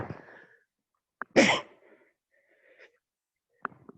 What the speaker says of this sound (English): Uh-oh, sneeze.